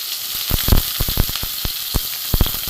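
Peeled brinjal dropped into hot oil in a pan for a drumstick-leaf chorchori, producing a loud dense sizzle with sharp popping crackles scattered throughout.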